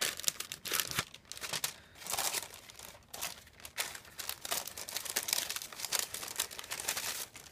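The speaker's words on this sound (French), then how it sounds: "Il suffit de replier suivant le pli et de marquer la diagonale." Paper being folded and creased by hand to line a soap mould, giving a steady run of close, crisp crinkling and rustling with short sharper crunches throughout, no voices.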